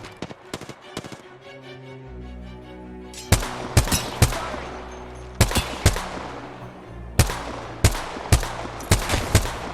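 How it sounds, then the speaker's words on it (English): Gunfire in the video game Apex Legends comes as a series of sharp, punchy shots in irregular bursts of two or three over a low droning backdrop, loud and near. "He's shooting me."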